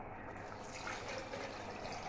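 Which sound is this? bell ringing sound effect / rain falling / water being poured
water being poured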